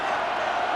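Stadium crowd roaring steadily in the Madden 26 video game during a Bears vs Raiders football broadcast, a continuous loud wash of cheering with no break.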